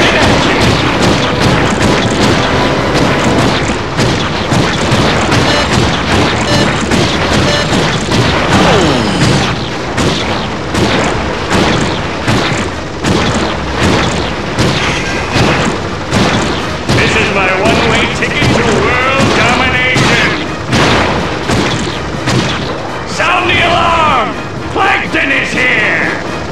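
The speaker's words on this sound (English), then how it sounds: "Time for double speed cannon action!" Loud, continuous booming cannon fire from a game, blasts overlapping in rapid succession amid heavy mechanical clatter, with no pause throughout.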